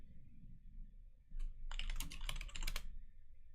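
A burst of keystrokes on a computer keyboard during a live coding session on a command line, a short tap then a run of fairly loud, close clacks.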